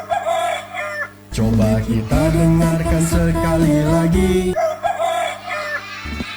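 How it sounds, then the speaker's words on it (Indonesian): A rooster crows loudly in a long, drawn-out cock-a-doodle-doo, played as an animal-sound guessing game for children; a voice speaks briefly before and after the crow. "itu suara ayam."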